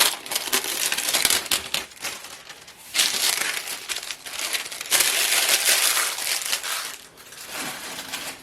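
Shrink wrap around a canvas is crumpled and pulled free, producing continuous close, loud crinkling and crackling in several long bursts separated by short quieter gaps.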